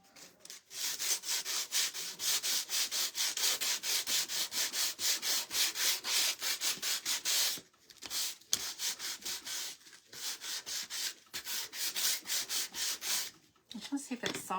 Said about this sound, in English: I grabbed a whole bunch of these sandpaper pads. Well, that one's really rough.